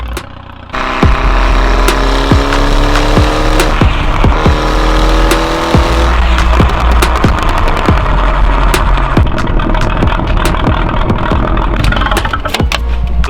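A 1.8T Audi TT mk1 engine holds at high revs with rapid popping and crackling bangs from two-step launch control, loud and continuous, the pops irregular throughout.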